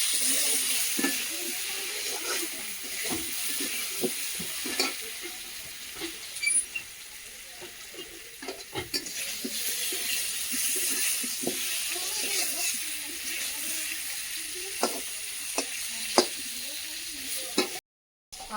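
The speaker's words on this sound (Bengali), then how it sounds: "আলুটা ভেজে নিচ্ছি হলুদ আর লবণ দিয়ে।" Potatoes fry with turmeric and salt in a wok over a wood-fired stove, a steady close sizzle broken by frequent stirring clinks and scrapes, ending in a brief silence.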